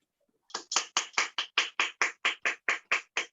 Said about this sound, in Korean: 다시 한번 큰 박수 부탁드릴게요